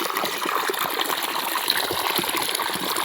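Irrigation water gushes and trickles steadily along furrows in a farm field, a continuous close rushing wash with no talk.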